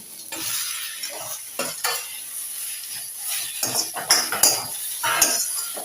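Chopped tomatoes and onions sizzle in a pan for paneer vegetable koorma, with repeated scraping stirs and the clink of a utensil against the metal, close and fairly loud.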